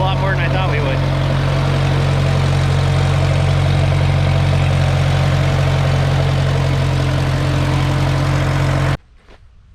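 A vintage Case tractor engine idles with a steady, low rumble, evenly and close by, then cuts off abruptly near the end, leaving near silence.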